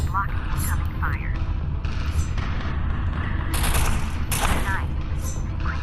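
Incoming gunfire in the VR mech shooter MECHA crackles in dense, continuous bursts at close range, layered with sharp impacts and sweeping game effects, under ongoing talk.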